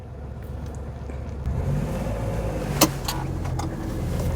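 A small Perodua car pulls away in first gear, engine note rising steadily from a low idle rumble, with a couple of brief clicks mid-way and the hum building toward the end.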